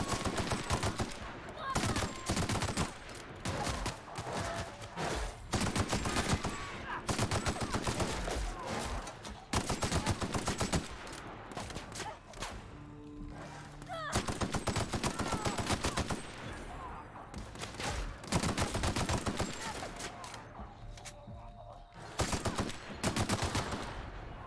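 A grenade launcher firing repeatedly in the video game Outer Worlds, dense bursts of loud explosive shots and blasts in clusters with brief lulls between volleys.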